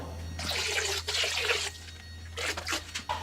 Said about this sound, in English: we're gonna go ahead and add this to our reservoir